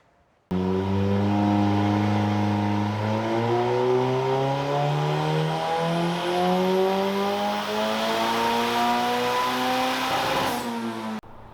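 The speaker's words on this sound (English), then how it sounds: "it's time to put it on the dyno again and do some more testing" A heavily modified car, built for a 1000 hp attempt, revs hard on a dyno during testing, the engine climbing loud and sustained through rising pitch steps with brief drops between gears.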